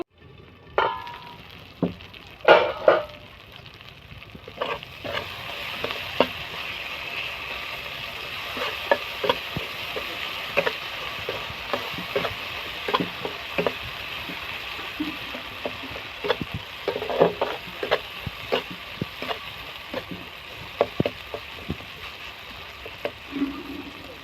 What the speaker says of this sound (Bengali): মশলাটা ভালোভাবে কষানো হয়ে গেছে এই যে তেলও ছেড়ে গেছে